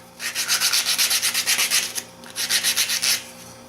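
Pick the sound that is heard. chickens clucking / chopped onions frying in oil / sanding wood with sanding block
sanding wood with sanding block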